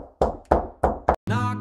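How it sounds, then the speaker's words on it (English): Four firm knocks on a door in a quick, slightly uneven series, close and loud, followed by a sustained synthetic tone, with no voices. "Knock, knock."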